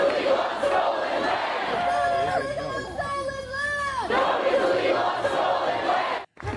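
A large protest crowd at a nighttime ICE shooting protest shouts and chants continuously, with several voices rising into loud, sustained yells amid the dense roar of the crowd.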